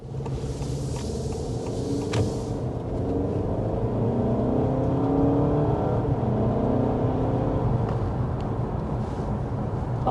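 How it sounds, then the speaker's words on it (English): A 2024 Honda Accord under hard acceleration uphill, its engine rumbling steadily and building in pitch over ten seconds, heard from inside the cabin with continuous road and engine drone and no talk. "first we're going to go ahead and start with a hard acceleration."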